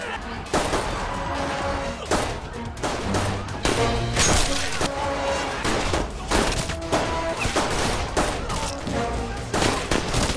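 Heavy gunfire rattles in a film scene, with dense bursts and sharp cracks over a loud, busy backdrop, while a narrator talks over it in places.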